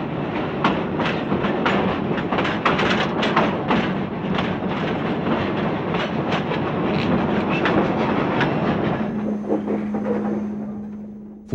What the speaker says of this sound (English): Former Ulster and Delaware 10-wheelers number 811 and 817 are coupled to the head end at Kingston.